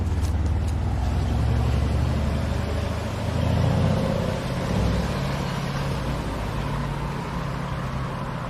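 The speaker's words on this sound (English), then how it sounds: "Got a sexy Mercedes AMG here." A Mercedes AMG car gives off a deep, loud engine rumble that swells briefly around the middle, then settles into a steady drone with road and wind noise.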